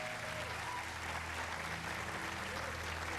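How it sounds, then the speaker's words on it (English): Game show studio audience applauds a contestant who has reached $100,000, a continuous, even roar of clapping heard at moderate level from start to finish. "you deserve a round of applause for that"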